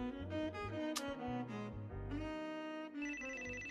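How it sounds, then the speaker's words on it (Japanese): A telephone rings in a Japanese dating-simulation video game, a repeated electronic ringing pattern with a brief bright chime, steady and moderately loud with no voices. "電話だ。"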